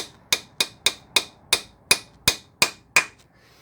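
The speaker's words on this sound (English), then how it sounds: "Excuse my wood hammer, but it's the only one I could find." Nine sharp, evenly spaced taps ring out one after another, a wooden mallet striking a metal part on a VW Golf Mk3 gearbox close up with a bright clink on each blow.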